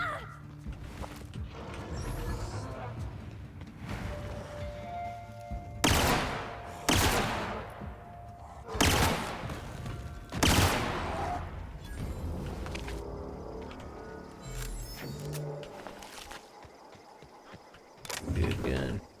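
Gunfire from the player's gun in The Outer Worlds, several loud sharp shots spaced a second or two apart over busy game background noise.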